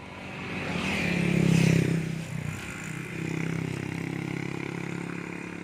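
A Honda Dream Super Cub motorcycle engine idles and runs steadily nearby, with a low rumbling exhaust that swells briefly in the first two seconds and then settles.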